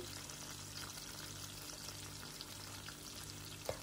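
Steady hissing sizzle of peppers frying in hot oil, close and continuous, with a faint click near the end.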